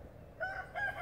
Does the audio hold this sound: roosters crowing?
yes